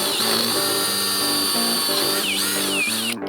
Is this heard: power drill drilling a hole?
yes